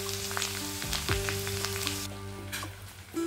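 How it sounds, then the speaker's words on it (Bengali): Okra curry (dherosh chachchari) sizzling and frying in a pan as water is poured in, a steady crackling hiss with a brief splashy surge, then the sizzle quietens near the end. "ঢেঁড়স চচ্চড়িতে জল ঢেলে দিলাম।"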